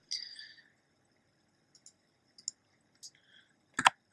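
Fingers type on a plastic computer keyboard, making a few sparse, sharp clicks close by, with a louder cluster of keystrokes at the end.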